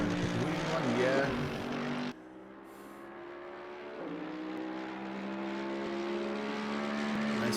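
Mercedes-Benz GT race car engine in Assetto Corsa Competizione, a steady sustained drone with harmonic tones that drops abruptly at one point and then holds an even, moderately loud note, with a voice talking over it.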